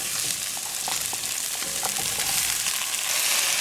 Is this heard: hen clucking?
no